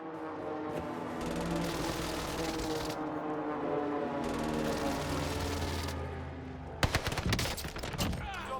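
Airstrike and gunfire in the Call of Duty Warzone video game: a sustained roar of incoming strike and distant rattling fire, then a sharp cluster of loud impacts and bursts near the end.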